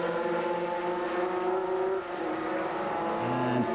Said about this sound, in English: cars just flying past now